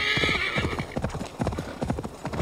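A horse's hooves clip-clop rapidly in a steady gallop in the video game Assassin's Creed Valhalla, while it whinnies loudly near the start.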